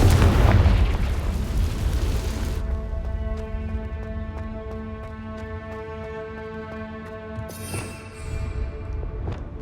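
The Confringo blasting spell in Hogwarts Legacy goes off in a loud, booming explosion right at the start, then fades into game music, with a smaller pop near the end.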